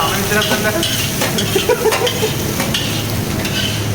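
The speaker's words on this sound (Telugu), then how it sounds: "నిఖిలేష్ ఫ్రైడ్ రైస్ చేస్తున్నాడు గైస్. సీరియస్ తిప్పుతున్నాడు." Fried rice is stirred vigorously in a pan in a hostel kitchen, a close, loud, continuous sizzle with rapid scraping and rustling of the spatula throughout.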